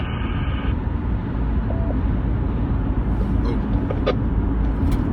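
Steady low rumble of a car interior while driving, continuous road and engine noise filling the cabin with a few faint higher clicks and tones near the end, no one speaking.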